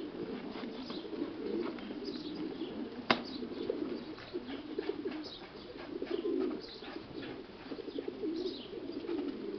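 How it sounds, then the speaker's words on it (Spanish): A racing pigeon up for auction coos in low repeated rumbles, with a sharp click about a third of the way through. Wings flap and shuffle now and then over a steady background hiss. "Calada y muy bonita paloma, pues ahí la pueden ver ustedes muy bien."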